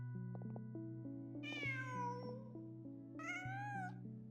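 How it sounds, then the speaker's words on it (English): A cat in a video game meows twice, clear, drawn-out calls spaced about two seconds apart over a steady plucked musical backing, with no talking. "Just a cat."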